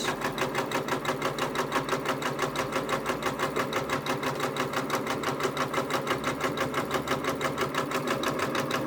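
A Janome embroidery machine, an MB4, MB4S or MB7 type, stitches a quilt applique in the hoop, giving a fast, even mechanical chatter with a steady rhythmic pulse, close and continuous with no talking.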